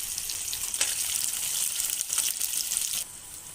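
Chopped onion and green chili go into hot oil with mustard seeds and cumin for a dry potato dish, giving a bright, continuous sizzle and crackle with a few louder bursts before it quiets near the end.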